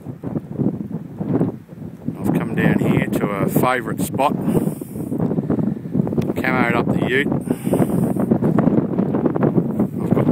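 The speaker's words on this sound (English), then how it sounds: "It's a nice windy day." Someone talks outdoors while wind steadily buffets the microphone, producing a constant low rumble beneath his voice.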